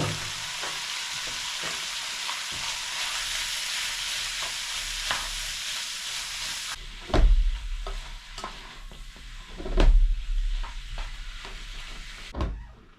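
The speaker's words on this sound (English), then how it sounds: "we're going to take our pork tenderloin, whatever pork meat you want to use, and we're going to cook that up." Pork tenderloin fries in a wok with a steady broadband sizzle, then quiets partway through as stirring takes over, with loud scraping and clattering strokes against the pan at irregular intervals.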